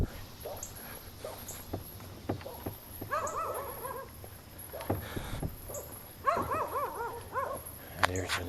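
A dog barks on a morning street walk through town, giving several short, fairly close barks in two bursts over steady outdoor background noise.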